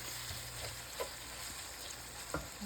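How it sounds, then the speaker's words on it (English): Minced beef cooking with methi in spices in a pan, a soft, steady sizzle with a few faint stirring touches, quiet and close. "let it cook in the spices for about 3 to 4 minutes more"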